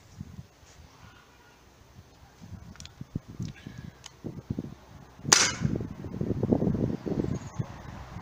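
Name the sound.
air gun shot at close range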